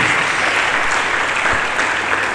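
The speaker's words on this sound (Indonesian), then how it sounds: "Lebih meriah lagi, mari kita berikan tepuk tangan bagi Yesus." Loud, enthusiastic applause from a church congregation fills the space, a thick continuous clatter of many hands that stays at full strength without a pause.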